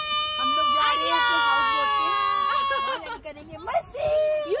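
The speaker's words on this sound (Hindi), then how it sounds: "बच्ची चिल्ला रही है।" A little girl screams on a family trip to a Kashmir houseboat: a long, loud, high-pitched sustained cry that wavers, then breaks into shorter shrieks.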